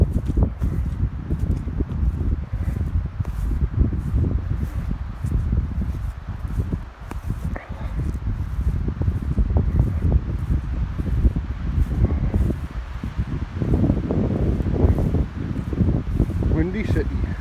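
Wind gusts through a forest on an overcast day, keeping up a steady dense rustle of leaves and low buffeting with no clear pause, and a voice talks over it at times.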